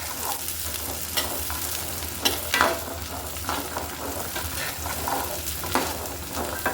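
Native garlic cloves fry in oil in a pan for Bengali garlic pickle, with a continuous close sizzle and occasional scraping stirs.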